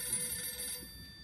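A telephone bell rings during a high school stage musical, its bright, steady tone sounding alone for about a second before fading out.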